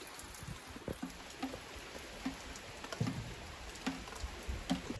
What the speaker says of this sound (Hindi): अभी भी बहुत बारिश दे रहा है